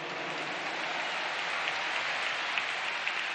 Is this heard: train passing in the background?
no